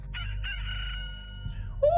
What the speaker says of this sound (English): there's a cock-a-doodle-doo